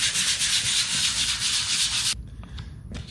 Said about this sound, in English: I got 100 grit sandpaper here, and I am just gonna sand this down a little bit here